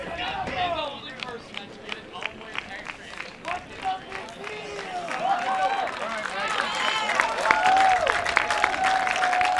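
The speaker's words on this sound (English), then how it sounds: "Michael Williams getting a round of applause from the fans and his teammates" Fans and teammates applaud a substituted pitcher walking off at a Louisburg College versus Cleveland CC college baseball game. The scattered crowd clapping swells steadily and grows louder toward the end, beneath continuous commentator talk.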